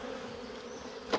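Bees humming low and steady inside a hive jam-packed full of bees, a soft continuous drone with a brief louder buzz near the end.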